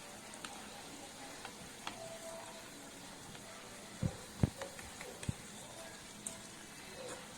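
Cabbage and onion pakoda deep frying in hot oil give a faint, steady sizzle with a few sharp crackles and clinks near the middle as pieces are turned; no speech.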